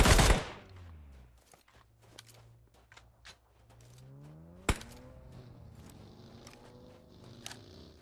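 PUBG Mobile match with a loud burst of shots at the start, then sparse scattered gunshots and one sharp crack midway over a low humming drone.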